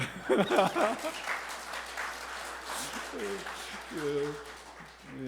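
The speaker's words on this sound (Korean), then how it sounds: "이제 박수는 쳤어요." Applause from a church congregation during a Sunday worship service, moderate and continuous with a voice speaking over it and a short tonal phrase near the end.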